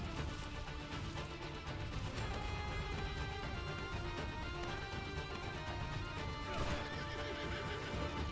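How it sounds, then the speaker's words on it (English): Horse neighing and whinnying over clip-clopping hooves in the Crimson Desert video game trailer, a loud steady whinny with hoofbeats throughout and a bright cry near the end, no talk. "To tame a horse?"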